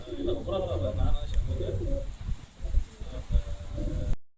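Pigeons coo in soft, repeated throaty bursts nearby, mixed with some low thumps and light rustling, at a pigeon loft in Dharwad.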